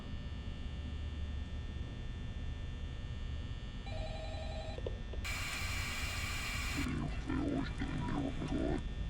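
An electronic phone ring in Five Nights at Freddy's sounds in bursts over a steady mains-like hum, followed by a burst of beeps and some muffled noise.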